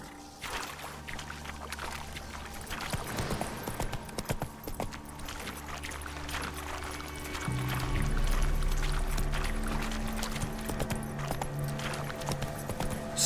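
Horse hooves in The Witcher 3 clop at a steady trot through a swamp, a continuous rhythmic patter mixed with splashing water and ambient game sound.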